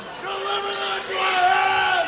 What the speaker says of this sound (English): There's that quesadilla. quesadilla cheer from the fans below us.